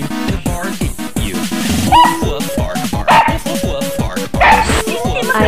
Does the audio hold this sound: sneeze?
no